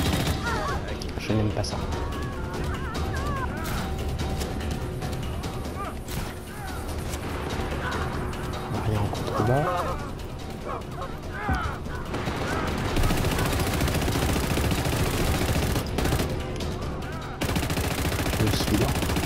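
Gunfire in the action video game Just Cause 3 rings out in repeated bursts and single cracks, mixed with crashes and impacts, loud and dense throughout, while someone speaks briefly over the shooting.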